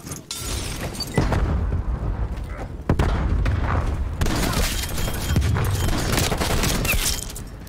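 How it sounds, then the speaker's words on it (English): Shotgun blasts in a video game: several loud, booming shots spaced a second or so apart, each with a heavy punch and lingering rumble, over steady background game noise. "I'm going to try to use the shotgun again"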